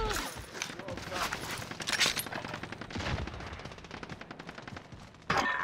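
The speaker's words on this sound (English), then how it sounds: "I'm getting shot from behind!" Rapid automatic gunfire from the video game Call of Duty Warzone, dense bursts of shots running through the whole stretch with a loud burst near the end, while a player shouts over it.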